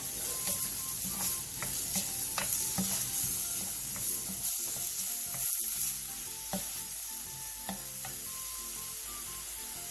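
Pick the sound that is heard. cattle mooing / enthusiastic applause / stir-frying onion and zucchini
stir-frying onion and zucchini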